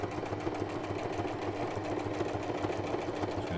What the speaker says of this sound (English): So let's give this a sew.